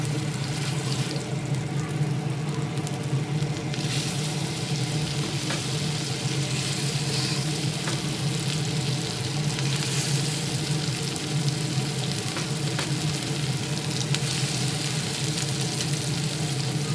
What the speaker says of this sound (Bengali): খুন্তির সাহায্যে তাওয়াতে খুব ভালোভাবে তেল লাগিয়ে নিয়ে এর মধ্যে দিয়ে দেব একে একে মাছের টুকরোগুলো